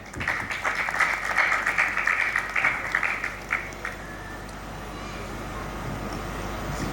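An audience at a Hindi comic poetry gathering claps to welcome the poet Kaka Hathrasi, a dense burst of applause lasting about four seconds before it fades away into quiet room noise.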